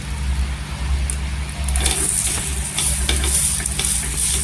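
Loud, continuous sizzling of fasting-style thalipeeth on a hot griddle with crackles and pops, plus a low steady hum underneath, no one talking.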